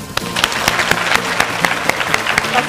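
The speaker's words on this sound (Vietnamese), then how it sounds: "xin mời tất cả các bạn hãy gửi một tràng pháo tay" An audience claps for a pharmacist guest at a televised Miss Universe Vietnam pageant training session, loud dense applause with sharp individual claps standing out, steady throughout the short stretch.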